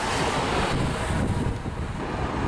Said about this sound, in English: It's pretty windy out here too.